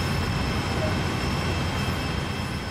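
Steady, loud rumble of a train rolling past in Train Sim World 2, a continuous broadband roar with a faint high whine and no distinct pauses.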